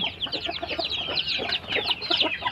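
Rhode Island Red and Dekalb White chicks cheep and cluck together, a busy overlapping chatter of many small birds close by, continuous and uneven.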